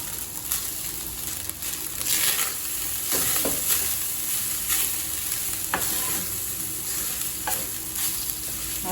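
Garlic rice is stirred in a hot pan, a continuous close sizzle with repeated scraping and clinking strokes of the spoon against the metal as the cooked rice is turned over.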